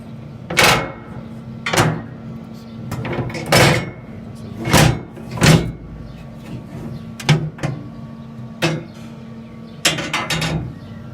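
Metal clanks and knocks come from lifting the cooking grill on a Louisiana LG800 barbecue, a series of sharp, fairly close bangs spaced irregularly over a steady low hum.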